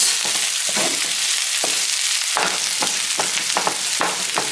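Caramelized onions frying in a pan while a prawn biryani is cooked, giving a steady close sizzle with a run of scraping stirs and clatters on top, and no voices.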